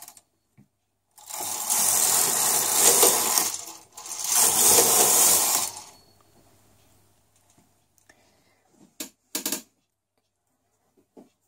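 A domestic knitting machine carriage is pushed across the needle bed twice, knitting two rows of a tension swatch: two loud, sustained mechanical rasping passes with a short gap between them, followed by a few scattered clicks.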